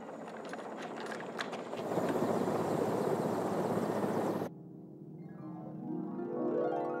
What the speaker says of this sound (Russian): А вон и вертушки.